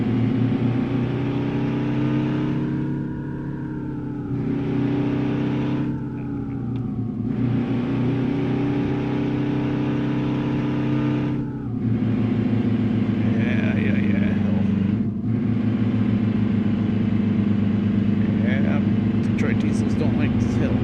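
A Detroit Diesel truck engine labors up hills in American Truck Simulator, a loud, deep, steady drone whose pitch steps up and down as gears change and load shifts.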